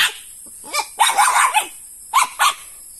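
A farm dog named Popol barks in a handful of sharp, loud yaps close by, first one single bark, then a cluster, then two more after a pause, with no one talking.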